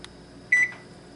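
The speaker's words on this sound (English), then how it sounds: "We are preheating the oven to 375." A kitchen oven beeps once as it is set to preheat to 375, a short clear electronic tone close by in an otherwise quiet room.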